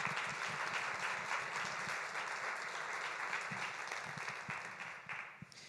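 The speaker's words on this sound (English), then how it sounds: "Let's have everyone give Marilyn a round of applause" Audience applause fills the room with steady dense clapping for the whole stretch, a few sharper individual claps standing out, fading slightly toward the end.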